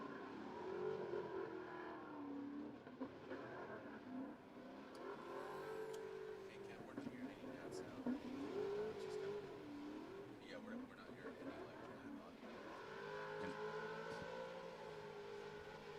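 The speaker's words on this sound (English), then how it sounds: "And Misko warm up the tires." A drift car in a Formula Drift Pro2 top 32 battle revs its engine while warming up its tires, rising and falling whines heard at a distance beneath steady commentary from an announcer.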